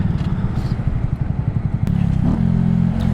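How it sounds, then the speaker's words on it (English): A Honda Grom motorcycle with a cheap aftermarket exhaust putters with rapid rhythmic pulses, then rises into a steadier buzzing drone as it revs, close and moderately loud. "I love the sound for cheap Amazon exhaust."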